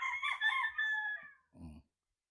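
A five-month-old BB Polish broad bull stag, a young gamecock, gives one clear, fairly close crow in several drawn-out phrases, followed by a short throaty cluck before falling silent.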